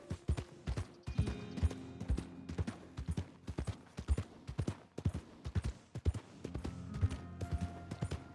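Horse hooves clip-clopping in Red Dead Redemption 2, a steady, loud galloping rhythm of sharp hoof strikes with creaking tack throughout, no voices.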